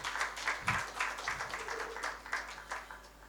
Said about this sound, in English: Please let's give Sheik Overture a round of applause.